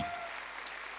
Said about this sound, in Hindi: तो राकेश जी के लिए तालियां होनी चाहिए